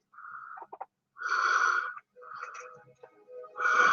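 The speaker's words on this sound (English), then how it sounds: "Ignore the heavy breathing, it's part of the video." Heavy breathing close to the microphone, a series of wheezy, nasal breaths in irregular bursts, some short and some drawn out, with quiet gaps between them.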